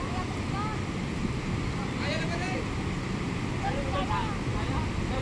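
Strong floodwater rushes past the bridge at Laurel, Batangas: a steady, dense roar of churning water fills the scene, with faint voices and thin whistle-like tones drifting over it.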